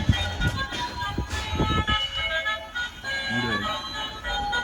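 A battery-powered toy train runs around a home and gives off a whirring, tinny electronic tune with short clicks and bumps, while a person talks over it.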